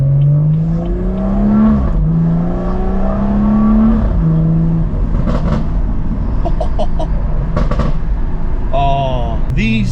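Stage 2 tuned BMW M140i in Sport Plus and manual mode, engine droning and rising through revs in two pulls before gear changes, followed by crackles and a final rev, loud and close from inside the car.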